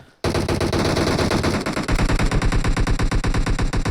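Gunfire exchanged between teams in the battle royale game PUBG on the Erangel map, beginning abruptly as loud, dense automatic bursts that settle into rapid, evenly spaced shots.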